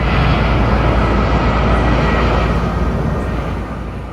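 A fixed-wing passenger airliner in flight on a roughly three-hour trip toward Marrakech, giving a steady, loud, broadband engine roar that holds evenly throughout with no talk over it.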